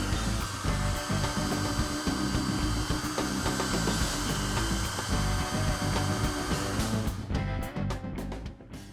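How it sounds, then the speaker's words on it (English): A hairdryer blows steadily on a freshly applied decal on a scale model, a loud continuous broadband rush lasting several seconds before it cuts off near the end, with faint handling noises. "now I'm going to hit it with the hairdryer before it moves"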